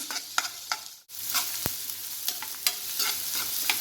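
Finely chopped onion sizzling and frying in a pan, with a steady hiss broken by a few scraping stirs and a brief pause.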